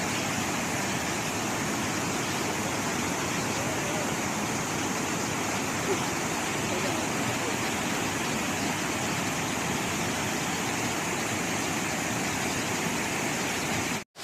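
Tad Kuang Si waterfall near Luang Prabang, Laos, roars as a steady, dense wash of falling water, loud and close, continuous throughout with no voices, cutting off abruptly at the very end.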